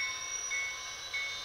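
Model railroad train cars roll forward at low speed to clear a turnout, giving a steady, faint high-pitched whine and soft rolling hum with no talking.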